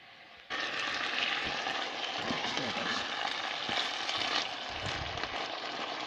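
Caramelized pork sizzles in a pan for a Vietnamese pork bowl, a steady close frying hiss that starts abruptly and stays even with soft stirring clinks.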